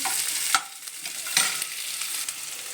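Chopped onions stir-fried in a pan for a homemade mixed vegetable dish, giving a steady close sizzle with a few sharper scrapes of the spoon against the pan, and no talking.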